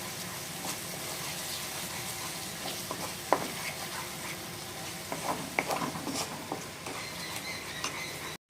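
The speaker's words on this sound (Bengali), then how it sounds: "আর এখন তো ভালো করে গ্রেভির সাথে আমরা কষিয়ে নেব।" Chili paste, roasted until charred, sizzles as it is sautéed with gravy in a pan for a shol fish (snakehead) dish. A steady, close frying hiss runs throughout, broken by a few sharp spoon-and-pan clinks.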